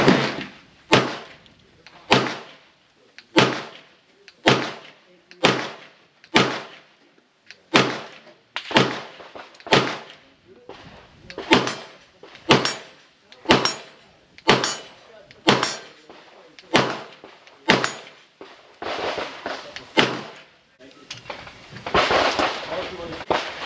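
A Walther PDP Pro SD 5.1-inch pistol fires about twenty loud, sharp reports outdoors at a steady, evenly spaced pace, each with a short ringing decay, before the shots give way to rustling noise at the end.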